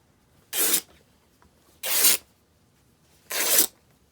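A fabric sheet is torn into strips for weaving in three separate quick rips, evenly spaced, close and fairly quiet, with near silence between them.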